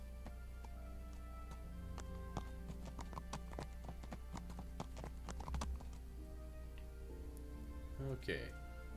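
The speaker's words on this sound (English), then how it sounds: "Okay, here's my horse." A horse's hooves clip-clop in the medieval game Kingdom Come: Deliverance, a quiet steady trotting rhythm with someone talking over it.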